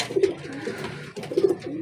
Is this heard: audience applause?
no